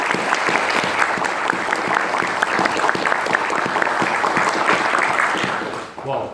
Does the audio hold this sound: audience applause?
yes